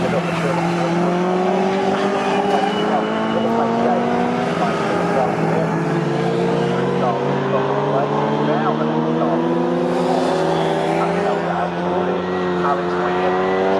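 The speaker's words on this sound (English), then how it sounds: "when he opens up the tap, he absolutely rockets his way through and past Mike Stevenson, and he gets the car" A classic racing car in a CSCC Classic K Series race at Snetterton accelerates hard, its engine note climbing steadily and loud for the whole stretch, with a race commentator talking over the noise.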